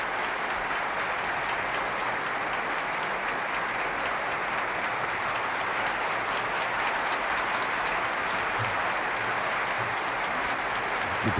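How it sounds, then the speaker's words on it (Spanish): Deputies and senators rise and applaud the King and Queen in the Spanish parliament at the 1978 sanctioning of the Constitution, a continuous, dense, even ovation from a large chamber crowd. "Diputados y senadores puestos en pie aplauden a sus majestades."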